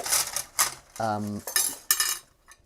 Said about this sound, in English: cutlery in there, just like that. Just chuck it in.